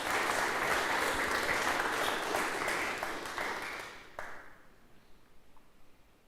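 A live audience at a coffee industry event gives a big round of applause for the sponsors, dense and loud at first, then thinning out and fading to scattered claps and room quiet.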